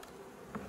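Honey bees hum faintly at an open hive during the merging of a swarm with a mite-damaged colony, with the queen caged; a soft, brief buzz holds steady with one slightly louder swell.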